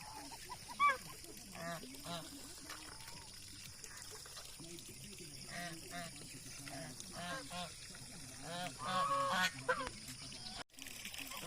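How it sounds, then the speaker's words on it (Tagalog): Geese honk repeatedly amid a busy farmyard din of other fowl, with a person talking intermittently over the birds. "Yan ang gansa natin."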